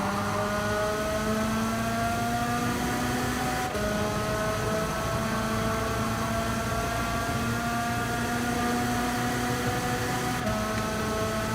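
Go-kart engines race in Gran Turismo 7, a steady, buzzing, high-pitched drone that wavers slightly in pitch and continues without a break.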